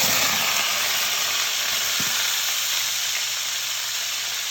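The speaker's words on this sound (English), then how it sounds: "we're going to add our celery and carrots to this same pot" Celery and carrots sizzle steadily in a hot pot that just held seared sirloin for pot roast, a loud continuous hiss filling the whole stretch with a brief clunk partway through.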